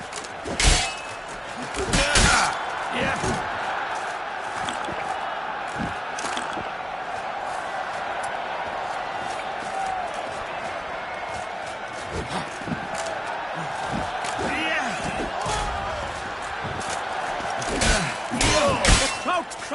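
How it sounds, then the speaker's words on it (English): A crowd in the video game The Witcher 3: Blood and Wine cries out in shock, a swelling murmur of voices with sharp thuds and impacts scattered over a steady background din. "The crowd cries in shock."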